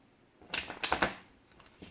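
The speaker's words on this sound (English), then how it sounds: "Why are my shuffles so bad today?" Tarot cards being shuffled by hand in a quick burst of papery riffling and slaps, close and fairly quiet, after a moment of near silence.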